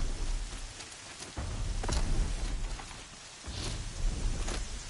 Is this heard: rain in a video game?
yes